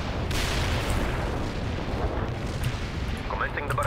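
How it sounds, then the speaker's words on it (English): Artillery barrage in the real-time strategy game World in Conflict, a dense continuous roar of rumbling blasts and booms, loud and sustained throughout with a brief voice line underneath. "Commencing barrage. Stay clear of the target area."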